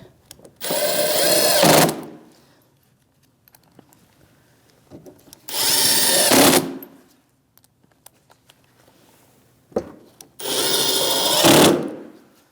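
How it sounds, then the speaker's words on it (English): Three bursts of a power drill with a 7mm socket driving screws with washers on a Chevrolet Malibu's windshield washer reservoir, each run about a second long and separated by quiet pauses with light clatter. "Same 7mm socket, 3 screws with the washers, and we'll tighten them right up."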